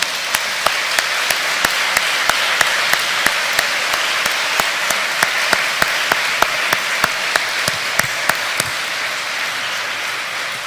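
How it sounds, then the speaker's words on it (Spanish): A church congregation applauds loudly in a strong, rhythmic burst, with a steady unison beat of claps over a dense wash of hands lasting several seconds. "Denle un fuerte aplauso al Señor"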